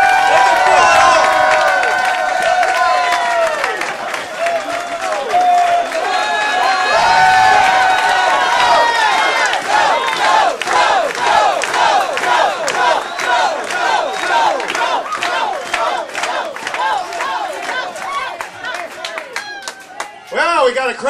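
Election night crowd cheering, whooping and applauding to welcome a speaker, loud and sustained for about twenty seconds with shouts, whistles and clapping layered together, close and filling the room.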